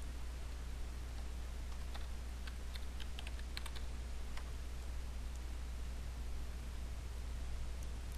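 Computer keyboard typing while entering router configuration commands, a quick series of light clicks over a steady hum, quiet and close with no talk.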